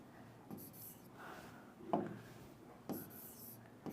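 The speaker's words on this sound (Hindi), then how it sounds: "देखो मैं यहाँ लिख के देख रही हूँ" A pen scratches across paper in short strokes, faint and close, with brief scraping bursts separated by small pauses.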